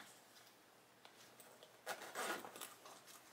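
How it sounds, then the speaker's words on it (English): A stiff zipper on a Pretty Little Thing haul bag is pulled closed in a short, faint rasping run, with a louder scraping burst near the end. "These zippers are a little stiff."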